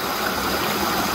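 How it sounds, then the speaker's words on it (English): A small waterfall in the countryside flows in a dense, steady rush of water, close and constant, with no voices over it. "Waterfall, it's all clear."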